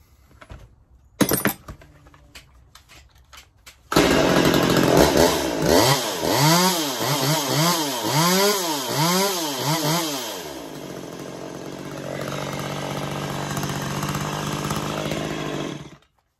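A Stihl MS192T chainsaw: a few clicks and a pull, then the engine catches and revs up and down in repeated rising-falling surges before settling to a steady high whine, loud and close.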